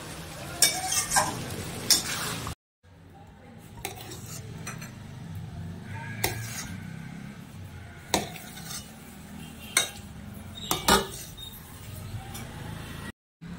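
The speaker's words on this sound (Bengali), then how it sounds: "মাংস প্রেসার কুকারে বসিয়ে দিলাম।" Pots, pans and metal utensils clatter and clink in a home kitchen as mutton goes into a pressure cooker, with a low sizzle underneath and several sharp knocks spread across the stretch, fairly close.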